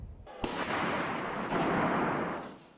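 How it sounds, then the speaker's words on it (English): Rifle gunfire echoing inside the Ottawa parliament building, a sudden sharp bang followed by a long booming reverberation through the hallway, recorded from a distance. "what we saw here was just that first round of gunfire. It was sort of loud bang, sounded like a rifle"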